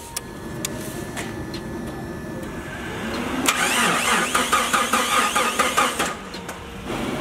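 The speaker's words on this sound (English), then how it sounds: "Of course, this thing's dead, so we gotta jump start it." A lifted vehicle, jump-started after sitting dead in a backyard, cranks with a rising mechanical whir and then catches into a steady, rhythmic engine run that pulses close and loud over the last few seconds.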